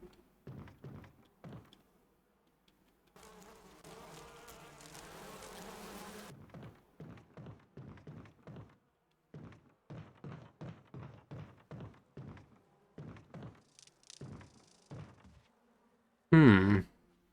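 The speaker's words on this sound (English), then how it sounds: "Can I shoot the beehive?" Bees buzz from a beehive in the video game Resident Evil Remake, a steady drone lasting a few seconds amid regular footsteps, followed by a loud, sharp impact near the end.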